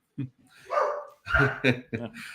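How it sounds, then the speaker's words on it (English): A dog barks a few times loudly in a home during an online chat, its short sharp yaps mixed with a person talking nearby. "My dog decided to say hello loudly."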